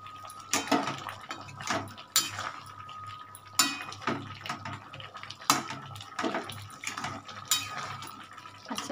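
Chicken kasha, a thick Bengali chicken curry, is stirred in a pan, with a utensil scraping and clanking against the metal at irregular intervals over a soft, wet bubbling background.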